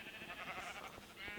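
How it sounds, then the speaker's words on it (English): Sheep bleat faintly from a farm area in a Minecraft-style base, soft repeated calls heard alone. "down here, one more level, you may hear the sheep"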